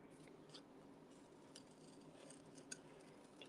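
Scissors make a series of quiet, crisp snips while trimming craft paper, faint and close, with small ticks scattered between the cuts.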